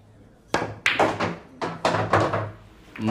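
Pool balls are struck with a cue during a game of pool, giving a quick run of about six hard knocks and clacks at uneven intervals, close and crisp against a quiet room.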